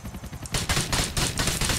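Shotgun blasts in the video game GTA 4 during a fight with SWAT: a rapid series of about six loud, sharp booms, close and evenly spaced, following some quieter pattering.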